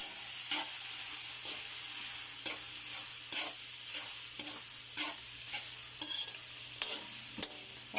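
Egg toppings for palabok fry in a pan while being stirred, giving a constant close sizzle and hiss broken by regular scraping strokes of the utensil about every half second.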